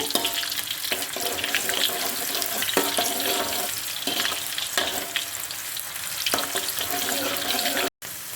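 Food sautés steadily in a pan for a Malaysian vegetarian nasi lemak sambal, with a continuous sizzle, occasional stirring scrapes and a brief gap near the end.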